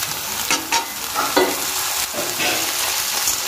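Pointed gourd added to hot oil with lightly browned onions fries with a steady, close sizzle, broken by a few sharp scrapes and clatters of stirring.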